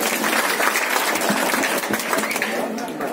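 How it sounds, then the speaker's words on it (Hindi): A crowd at an Indian election rally claps loudly and continuously, a dense close wash of hand claps, while an announcer's voice talks over it. "तालियां बजा करके इस्तेकबाल।"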